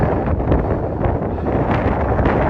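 Gusty wind buffets the microphone on a countryside walk between Marsden and Greenfield, a loud, constant low rumble that fills the whole stretch with uneven surges and no voices.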